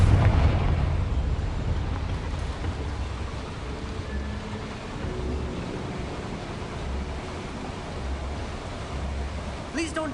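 A Confringo fire spell explodes in Hogwarts Legacy with a heavy, booming low rumble at the outset that fades into a long, noisy roar of debris and ambience.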